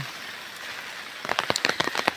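Steady rain hiss that turns into a denser patter of drops striking a hard surface in the second half, fairly close and without any voices.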